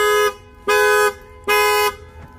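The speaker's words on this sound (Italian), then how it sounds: "l'antifurto è molto chiassoso" The alarm of a 2022 VW Tiguan R 2.0 TSI blares in three loud, harsh horn-like bursts, each about half a second long with short gaps between, heard close up.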